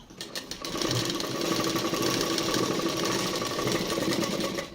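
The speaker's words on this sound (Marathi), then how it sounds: "आता बघू शिलाई घालते घाल बघा" An old sewing machine with a needle fault stitches steadily and loudly, a continuous mechanical whirr with rapid rhythmic needle clatter running throughout, no talk.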